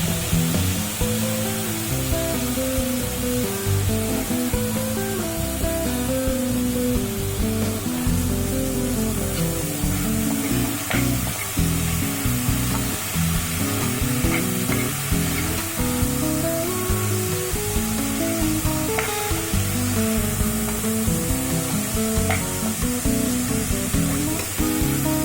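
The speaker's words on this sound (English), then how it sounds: "And then add the chopped mushroom" Chopped mushrooms frying in a pan for a masala side dish, a loud, continuous hiss of sizzling with occasional faint clicks of stirring, steady throughout with no talking.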